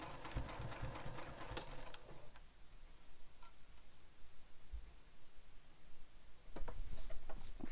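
A home sewing machine back stitches over the strap anchor of a bowler bag, a steady mechanical whir for the first couple of seconds, then quiet ticking and rustling before a short burst of stitching returns near the end.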